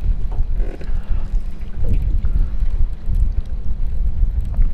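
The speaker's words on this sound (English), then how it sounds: "This wind does not help." Wind buffets a microphone on a fishing boat, a loud, continuous low rumble with gusty swells. Water sloshes faintly underneath and no one speaks.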